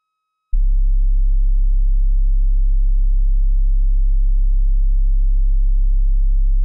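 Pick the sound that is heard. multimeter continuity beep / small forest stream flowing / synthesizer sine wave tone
synthesizer sine wave tone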